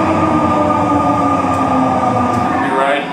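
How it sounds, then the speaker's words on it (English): Interior rumble of a passenger train running from Tokyo toward Kesennuma, a loud steady low drone with tonal hum and faint rail noise throughout. "We're riding this train up to Kesanuma."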